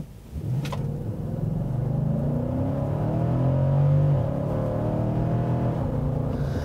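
A 2017 Nissan Titan with the 5.6-liter engine revs and accelerates, a close, steady low rumble whose pitch climbs and holds with rising and falling harmonic tones.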